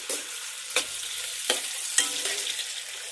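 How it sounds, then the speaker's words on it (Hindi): Onions browning in a pan for mutton karahi sizzle steadily, broken by a few sharp scraping stirs at regular intervals, close and moderately loud with no talking. "तो सबसे पहले हम जो ये ऑनियन हैं इनको ब्राउन कर लेंगे"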